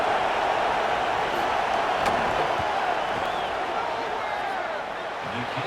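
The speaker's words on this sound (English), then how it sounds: "This crowd trying to do its part to get inside the kicker's head." Stadium crowd in a college football video game roaring steadily as a field goal attempt is lined up, a dense sustained wash of noise with no letup.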